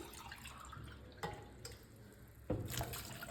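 Water poured into a cooking pot holding mutton bones, giving soft splashing and trickling with a few sharper splashes, fairly quiet and with no talk.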